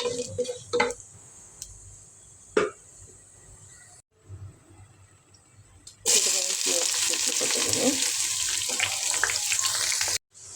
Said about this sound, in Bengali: শুকনো মরিচ, মশলা দিয়ে দেব খিচুড়িতে, ভালো নাড়াচাড়া দিয়ে দেব।